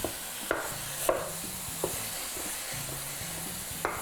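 Food sizzles loudly in hot oil for pork tacos, a steady bright hiss broken by a few soft stirring knocks from a utensil, with no talking.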